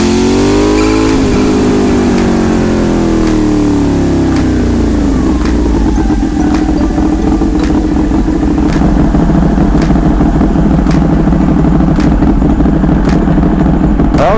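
A sport motorcycle, a Ducati 1199 Panigale or Yamaha R6, warming up: the engine blips and revs sharply up and down at first, then settles into a loud, close, steady idle with occasional throttle pulses.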